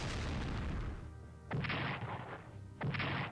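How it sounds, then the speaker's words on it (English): Airstrike explosions pound an Italian carrier in port in the strategy game Strategic Command: World at War, with a loud, rumbling blast followed by two more heavy booms at regular intervals. "We'll do an airstrike against the Italian carrier in port"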